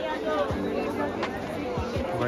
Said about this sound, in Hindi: यहाँ पर बहुत ज़्यादा शोर है तो मेरी आवाज़ नहीं आएगी